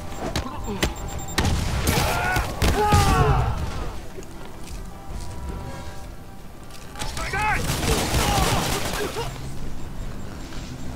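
Missiles launch and burst in rapid volleys during a boss fight against Martin Lee in Marvel's Spider-Man Remastered, loud booming explosions mixed with whooshes, with a player talking over parts of it.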